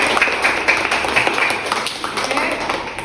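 Students in a classroom clap their hands together, a fairly close, busy patter of many small claps that keeps up steadily with little variation.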